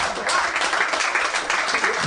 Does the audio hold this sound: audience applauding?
yes